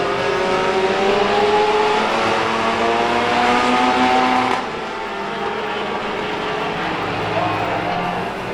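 Race cars roar around the track during a 15-lap feature race, a loud continuous engine drone with layered revving that drops slightly in level partway through as the pack moves on, with an announcer talking over it.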